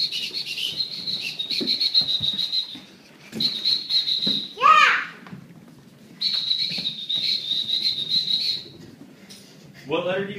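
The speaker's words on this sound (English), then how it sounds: "I gotta blow the whistle" A high shrill whistle blown in three long trilling bursts with gaps between, and a voice squealing in between.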